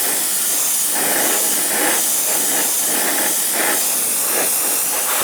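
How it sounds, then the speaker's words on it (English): A spray bottle mists acrylic paint onto a 1/35 Hobbyboss Merkava Mk 3 LIC model tank in repeated short, close hissing bursts, one after another at a steady rhythm. "we shall just lightly spray it."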